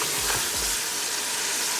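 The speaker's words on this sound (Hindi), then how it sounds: "टमाटर के साथ इसको फ्राई करते हैं" Mutton frying with tomato in a pan, a dense continuous sizzle with a couple of soft stirring knocks at the start, close and steady, no speech.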